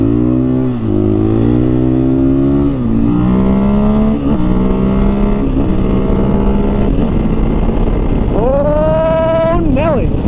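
A motorcycle fitted with an Acerbis X soft seat accelerates hard on a test ride, its engine note climbing through several gear changes and rising again to a high whine, loud and close with wind rumble throughout.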